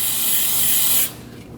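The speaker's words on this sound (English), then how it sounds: "Using some brake parts cleaner, go ahead and spray some." A continuous loud hiss from a can of brake parts cleaner sprayed at close range for about a second during an oil change on a 2011-2016 Kia Optima 2.4L, then cutting off abruptly into quiet.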